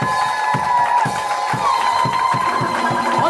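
Church audience cheers and acclaims together, with a loud rhythmic swell of voices and pulsing beats from the crowd, heard close and full.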